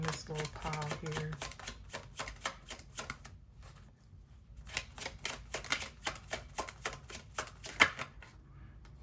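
A deck of cards is shuffled in several close, rapid riffling bursts with short pauses between them, fairly loud, while a voice speaks at the start.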